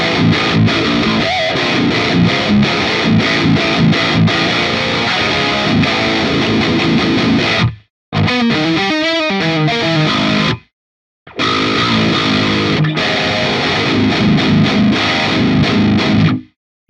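An electric guitar plays through the MLSoundLab Amped ML5 amp plugin, a Mesa-style amp sim with a noise gate, giving crunchy distortion. Loud chugging riffs and chords stop abruptly twice, leaving short gated silences, then resume.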